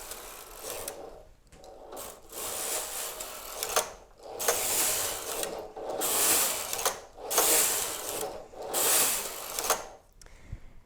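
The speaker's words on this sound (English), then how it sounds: "take the carriage across the knitting" A knitting machine carriage slides back and forth across the knitting in repeated passes, each stroke a rasping mechanical clatter with brief pauses between, close and fairly loud with no talking.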